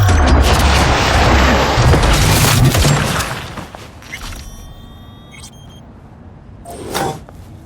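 A sustained roar of gunfire and blasts from a firefight in Cyberpunk 2077: Phantom Liberty fills the first few seconds loudly, then thins to scattered electronic tones and one more sharp burst near the end.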